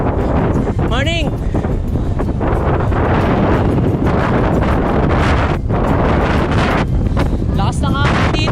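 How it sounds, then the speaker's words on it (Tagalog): Strong gusting wind buffets the microphone throughout, a loud, constant low roar on an outdoor ride in Tagaytay, with short bursts of voices and a whoop cutting through. "Lakas ng hangin dito."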